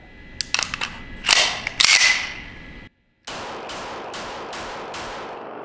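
A Beretta 92X Performance pistol fires a series of sharp, loud shots, an irregular cluster first, then a brief gap and about five evenly spaced reports.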